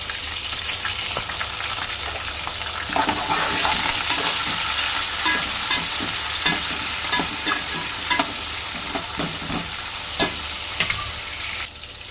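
Curry leaves and chopped onion frying in oil with peanuts for upma, a steady loud sizzle broken by the clink and scrape of stirring throughout, with no talk.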